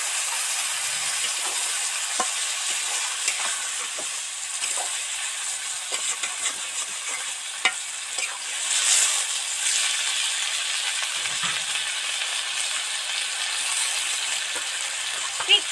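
Bhindi chorchori of okra sizzling softly in a pan just after a splash of water, a steady close frying hiss with occasional small stirring clicks.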